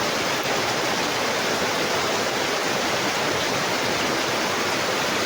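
Floodwater from sudden heavy rain in Angeles City rushes out toward a dike as a loud, steady, broadband roar of flowing water, constant throughout with no voices heard.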